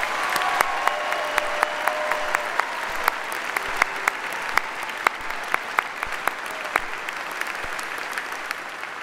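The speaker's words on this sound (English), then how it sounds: "Let's give them all a hearty round of applause." A large audience at a freshman convocation in a field house claps in sustained, dense applause, a loud continuous patter of many hands with scattered sharper claps standing out.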